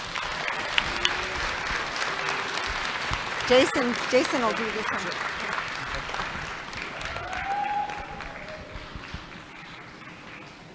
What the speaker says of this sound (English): Please give Ms. Irene Solomon a round of applause